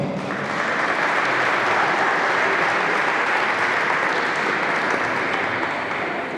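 Dense, sustained applause from a large crowd at a women's handball club event fills the space, steady and loud throughout with no pauses.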